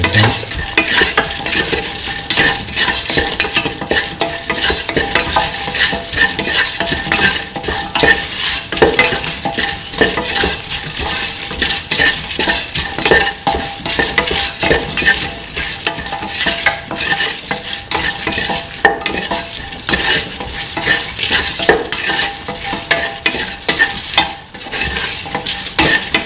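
A spoon stirs salt into a simmering okra, winter melon and coconut milk stew in a pot, with constant loud scraping and sizzling that carries on without pause or voices.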